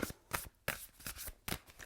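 A deck of tarot cards is shuffled in several quick riffling bursts, close and soft in a quiet room.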